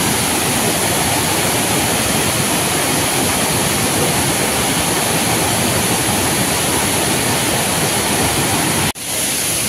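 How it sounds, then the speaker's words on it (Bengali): Loud, steady roar of a large volume of water pouring down a waterfall beside a seating area near Panchalingeshwar, continuous and close, breaking off abruptly just before the end. "আর ওপারে দেখো এখানে অবস্থাটা দেখো কত জল নামছে"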